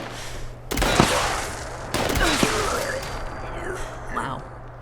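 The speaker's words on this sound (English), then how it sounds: "This is the quad explosive harpoon gun" A quad explosive harpoon gun fires in Fallout 76: two loud, close blasts about a second apart, each with a crackling, rumbling tail. A voice talks over the gunfire.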